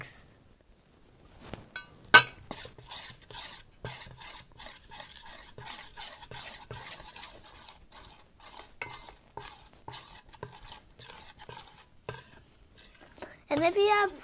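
Orange dye being stirred into magic slime sand makes a steady run of gritty scraping and rasping strokes. The strokes are close and fairly even in rhythm, and there is no talk over them.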